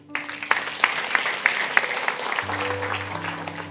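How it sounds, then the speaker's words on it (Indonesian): A congregation applauds at a church service with a pastor, steady crowd clapping with a few sharper claps standing out, sustained over a low organ or keyboard tone that enters partway through. "Tepuk tangan."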